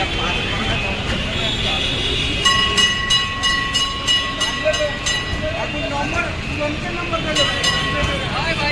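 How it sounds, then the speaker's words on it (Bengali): A Kolkata city tram approaches along street tracks, a rumbling rolling roar with rhythmic clacking and a sustained bell-like tone, heard amid busy street noise as people talk nearby. "ট্রামটা দূরে আসছে, সিগনালে আটকে আছে, তো ট্রামটা ঘুরে আসবে"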